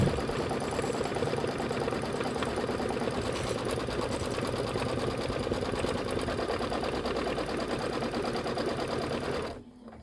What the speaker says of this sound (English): We're going to do the fabric tack down.